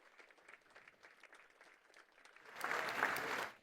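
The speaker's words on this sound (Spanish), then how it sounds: "Y con este aplauso" Applause swells from light scattered clapping into a dense, loud burst from a crowd near the end.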